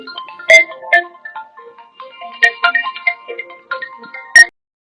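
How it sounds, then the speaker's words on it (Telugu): A melodic phone ringtone plays a few bright chiming notes in quick succession, clear and close, then stops. "మీ వదిన ఫోన్ మోగుతున్నట్టున్నది"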